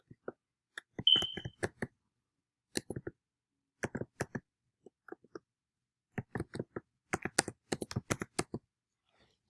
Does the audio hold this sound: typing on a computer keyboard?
yes